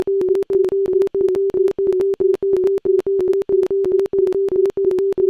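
Two synthesized tones generated with RTcmix play in interlocking polyrhythm, a steady held pitch pulsing in rapid, evenly repeating beeps that sound clean and close, with no voices.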